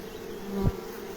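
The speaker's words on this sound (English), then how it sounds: "you can tell whether a queen is in residence by the sound of the buzz" A honeybee swarm that has settled into a baited hive with its queen gives a brief, steady buzz. One louder low burst swells near the middle of the clip.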